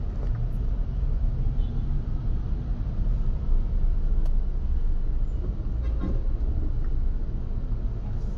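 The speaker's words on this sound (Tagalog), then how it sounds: "Maraming traffic ngayon dito sa may Commonwealth Avenue." Heavy, congested road traffic on Commonwealth Avenue, a constant low rumble of engines with an occasional faint horn toot far off.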